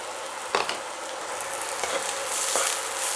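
Chopped garlic, ginger and half a finely chopped onion fry in a pan, giving a steady close sizzle with a couple of stirring clatters partway through.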